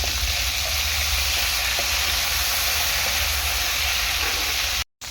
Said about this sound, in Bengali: খুবই সামান্য পরিমাণ একটু জল দেবো আমি মশলাটা কষানোর জন্য